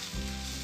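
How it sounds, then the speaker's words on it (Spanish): Garlic and onion hitting hot oil in a pan, a sudden loud sizzle that swells in and holds as a dense, close hiss. "Entonces voy a echar mi ajo con mi cebolla"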